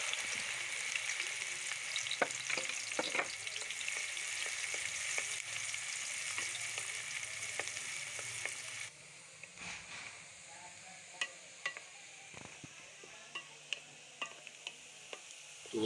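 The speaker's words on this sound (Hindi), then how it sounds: "प्याज को अच्छी तरह से ब्राउन करेंगे।" Onions frying in hot ghee in a kadai, giving a steady bright sizzle with scattered stirring clicks and taps; the sizzle drops noticeably quieter about halfway through, leaving softer crackle and occasional sharp ticks.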